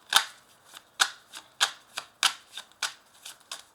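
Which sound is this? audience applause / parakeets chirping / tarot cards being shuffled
tarot cards being shuffled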